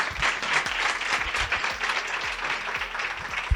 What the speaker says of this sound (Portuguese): Aplaudindo a Natal